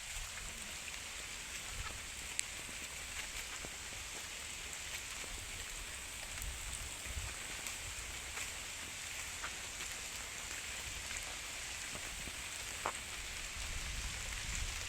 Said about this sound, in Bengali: সকাল থেকে এই বৃষ্টি একধারে